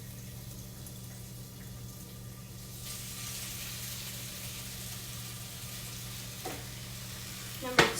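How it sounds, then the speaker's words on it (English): Stir fry sizzling in a pan with a steady, fairly quiet frying hiss and a low background hum, ending in a short clatter. "Number 2 on our stir fry is going."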